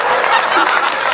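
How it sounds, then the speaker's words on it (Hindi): Audience applause at a comedy and poetry show in Mansarovar, Jaipur: a dense, continuous clapping crowd, loud and close, filling the whole moment without speech. "तालियां फिर कमजोर है भाई।"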